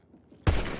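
One abrupt, loud rifle shot bursts out after a short hush at a shooting range, its blast lingering with a broad echoing tail.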